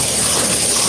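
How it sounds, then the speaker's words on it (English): A steam cleaner runs at full blast on the carpet of a Toyota Highlander, giving off a steady, loud, broadband hiss close up, alone and unbroken for the whole brief moment. "Now we have steam. The steam is at full blast."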